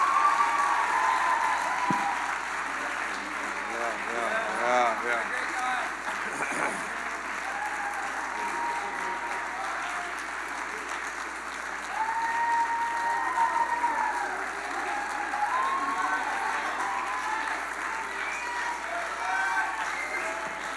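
Applause for performers and backstage crew at a school winter concert fills the room, a steady broadband patter lasting throughout with faint voices and murmurs underneath.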